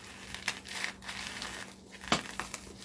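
A knife pushes into craft material for a bunny centerpiece, making short crinkly crunches and scrapes in quick, uneven bursts, close up and moderately quiet.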